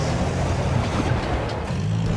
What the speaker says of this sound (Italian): C'è traffico in Vietnam. C'è traffico.